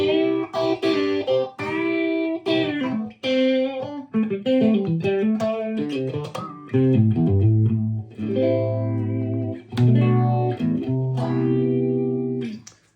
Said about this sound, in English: Here I put the phaser after the distortion, after the overdrive.